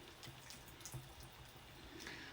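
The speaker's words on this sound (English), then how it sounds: "I'm just going to put some distilled water in it" Distilled water trickles into a container of thickened chalk paste, a faint steady pouring and dripping with small splashes, quiet and close with no talk.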